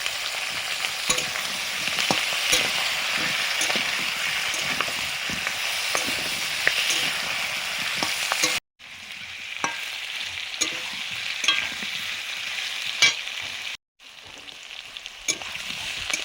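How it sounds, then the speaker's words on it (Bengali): Potatoes and kohlrabi fry in a pan, making a steady close sizzle with scraping stirs throughout, interrupted by two brief silent cuts. "আলু ওলকপিগুলো অনেকটা কষে নিয়েছি, ভাজা ভাজা অনেকটাই হয়ে গেছে।"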